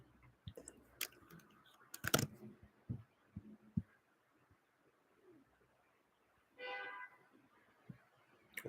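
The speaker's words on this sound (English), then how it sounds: "We got a horn honk." A single car horn honk of about half a second, fairly loud, rings out against a quiet indoor background of scattered clicks and taps.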